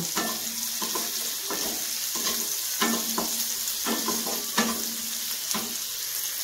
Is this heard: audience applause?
no